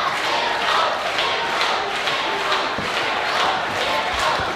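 A wrestling arena crowd roars steadily and loudly throughout, a dense wash of cheering and shouting with a few thuds from the ring underneath.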